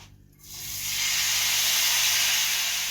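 Salad greens dropped into a hot oiled pan burst into a loud, close, steady hissing sizzle that starts suddenly after a brief quiet moment and holds strong, with no talking.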